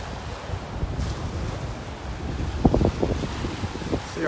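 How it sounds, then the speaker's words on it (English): Breeze and gentle surf along the beach at Delnor-Wiggins Pass State Park, a soft wash of waves with wind gusting against the microphone and a few nearby footstep-like thumps. "Nice breeze hit me in the face now walking back down the beach."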